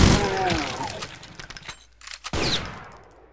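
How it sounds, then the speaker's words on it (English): A quick, loud volley of gunfire from the video game Brutal Doom, a mod of Doom, with a sharp burst near the start and another crack near the end. "Who's shooting at me?"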